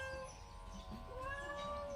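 A cat meows in drawn-out, tonal cries over a steady low background hum, fairly close and continuous throughout.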